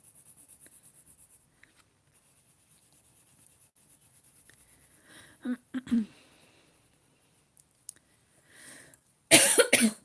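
A few short coughs in a quiet room, with soft rubbing and scratching sounds scattered before them and a louder burst of noise at the end.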